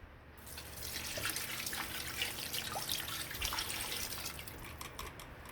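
Water runs steadily into a pressure cooker holding chicken feet for a dim sum style dish, a continuous close splashing pour lasting several seconds with no talk.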